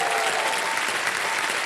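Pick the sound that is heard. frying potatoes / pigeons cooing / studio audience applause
studio audience applause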